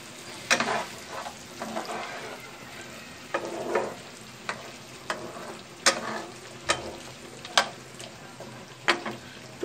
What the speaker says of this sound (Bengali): আলু দাম মাংসের সাথে আমি ভালো করে কষিয়ে নিব